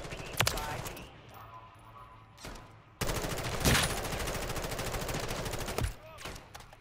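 Gunfire from the Call of Duty video game: loud bursts of rapid automatic shots, with short gaps between them and a long sustained volley at the end, close and dense.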